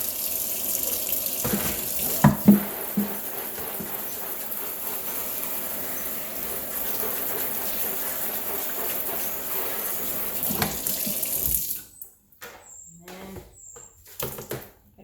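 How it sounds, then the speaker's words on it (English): A rabbit litter box being rinsed under a running tap: a steady, loud rush of water that stops abruptly near the end, leaving a few clatters and drips. "Good rinsing."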